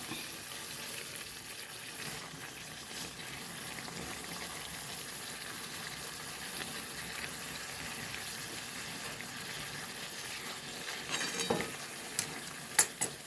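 Chicken frying in a pan, a continuous soft sizzle at low volume with faint stirring, and a few louder utensil knocks toward the end.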